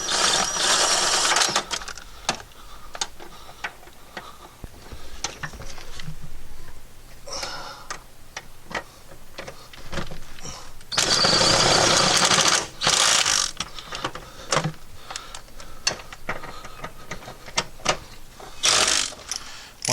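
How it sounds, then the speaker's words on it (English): Impact gun tightening the rear shock bolts on a Honda Civic: loud, close rattling bursts of the tool that stop and start, with short clicks and pauses between runs. "I'm just going to use my impact gun and just tighten them up a bit,"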